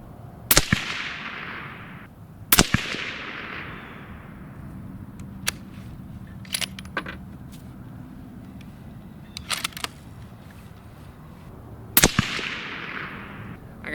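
Suppressed shots from a Mossberg Patriot Predator rifle firing Hornady 140-grain loads: three loud, sharp reports spaced several seconds apart, each followed by a brief decaying tail. Fainter clicks and handling noises fall between them, and no one speaks.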